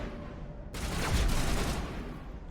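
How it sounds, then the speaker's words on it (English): A burst of heavy gunfire in Mass Effect 1 Legendary Edition, a sudden rolling fusillade lasting about a second before fading back into quieter background ambience. "Where are they shooting at?"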